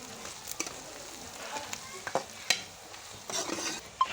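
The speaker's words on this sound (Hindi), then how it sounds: "साबुत ज़ीरा, ज़ीरा डाल दिया हमने। मिक्स करेंगे" Whole cumin seeds sizzling in hot oil while being stirred, a soft background crackle broken by scattered scrapes and clinks of a spoon against the pot, fairly quiet and close.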